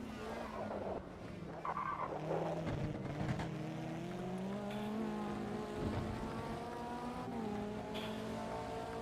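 A race car pushed hard in a sim racing game on cold tyres, its engine note rising and falling steadily through gear changes while tyre squeal and skidding sit underneath, moderately loud and continuous throughout.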